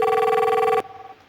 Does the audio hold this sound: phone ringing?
yes